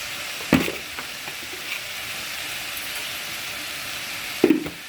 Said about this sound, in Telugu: మనం ఉల్లిపాయ వేయించుతున్నా కదా